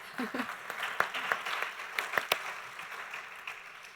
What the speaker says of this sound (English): So please give our audience members a round of applause, our panel members